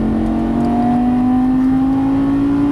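A Lamborghini Gallardo Superleggera LP 570-4 engine pulling hard on a track straightaway, a loud, steady rising drone climbing in pitch under acceleration, close and continuous with no talk.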